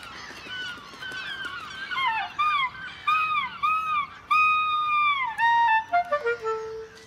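A clarinet mimics seagull cries with a series of swooping, squawking notes, rising and falling, ending on a lower held tone.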